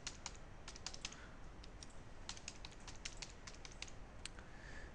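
Keys on a computer keyboard are tapped in quick, irregular bursts while a password is entered at a local PC; the clicks are faint and close, with no talking.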